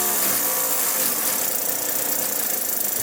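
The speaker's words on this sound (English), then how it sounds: "That is a great speed on the rotor." A Lego air-powered single-cylinder engine runs fast with its clutch engaged, spinning a rotor, giving a steady high-pitched whirring rattle with a rapid pulsing beat, close and constant throughout.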